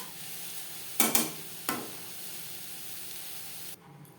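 Drumstick leaf greens and coconut being stirred in a pan, with a steady sizzling hiss broken by a few scraping strokes of a utensil, loud and close, before the sizzle suddenly drops away.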